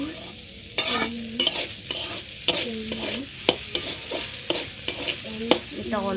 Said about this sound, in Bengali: এটা অল্প করে ভাজবো